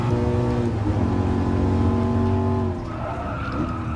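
Racing car engine under hard braking in the video game GT Sport, with a long sustained tire squeal and skid, loud and close, the pitch shifting near the end.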